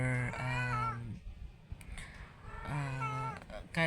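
A pet cat named Papag meows twice, two long, whiny calls a couple of seconds apart, close and clear in a quiet room with faint background rustling between them.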